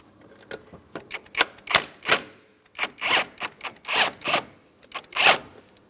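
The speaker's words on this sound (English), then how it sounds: "Let's use a 15mm to remove each one of these mounting nuts." A 15mm socket wrench working a brake master cylinder mounting nut loose on a 2004-2008 Pontiac Grand Prix, a quick series of sharp ratcheting clicks in bursts, close and fairly loud, alone without talk.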